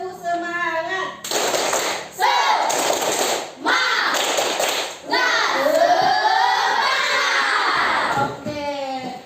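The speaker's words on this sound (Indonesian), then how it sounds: "Tepuk semangat." Classroom of children doing a rhythmic clapping chant, several bursts of loud claps and shouting voices in quick succession, close and energetic, with a teacher's voice at the start and end.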